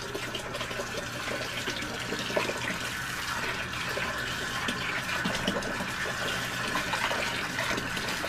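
Water runs steadily from a tap to rinse bleach off an aquarium hose from a Python water change system, a constant hissing splash at close range with slight shifts as the hose moves under the stream.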